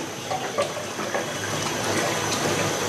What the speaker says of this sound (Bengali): দিয়ে দিলাম প্রথমে 1 কাপ পানি, দিলে আরও 1 কাপ পানি দিয়ে দিলাম